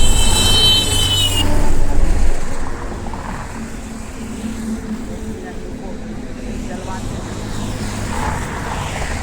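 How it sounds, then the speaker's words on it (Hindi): Road traffic with several vehicles passing in rainy weather, a steady broad rumble and whoosh of engines and tires, fairly loud and continuous, with a person talking over it at the start. "बहुत सारा गाड़ी आ रहा है।"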